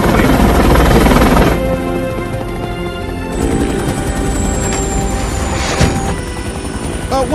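A presidential helicopter comes in to land at the White House, its loud, steady rotor and engine roar filling the scene, then easing a little as it settles, with a whine and a brief thump near the end.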